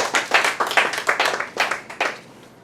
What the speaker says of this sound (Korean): 우선 박수 한번